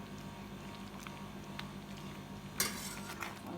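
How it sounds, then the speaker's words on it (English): A spoon scrapes and stirs Jamaican cornmeal porridge with coconut milk in a pot, soft intermittent clinks and a thicker scrape near the end, faint and close with a steady low kitchen hum beneath. "Continue to stir"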